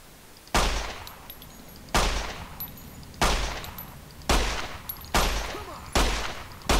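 Repeated bursts of heavy gunfire in the video game Fallout: New Vegas, six loud volleys spaced about a second apart, each a sharp blast trailing into a rattling decay.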